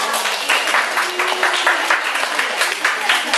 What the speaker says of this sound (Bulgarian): Пляскане за тях.